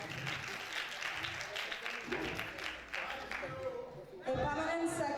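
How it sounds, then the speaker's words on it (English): Audience applause at an International Day of the Girl Child ceremony, a dense, steady patter of clapping running the whole time with voices and other sound mixed over it, swelling a little louder near the end. "a round of applause for her"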